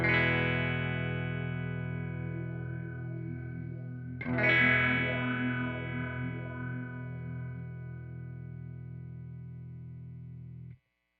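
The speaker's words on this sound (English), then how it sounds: "I should be able to swell in the phase sound." An electric guitar chord through a Walrus Audio Vanguard dual phaser pedal rings out loud and sustained, with a swelling, sweeping phase effect and a fresh strum midway, then cuts off abruptly.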